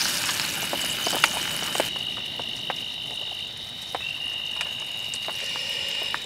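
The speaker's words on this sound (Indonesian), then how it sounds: "finish menggoreng ikannya." Fish fries on a camp stove outdoors, giving a steady close sizzle scattered with small crackling pops and no talking.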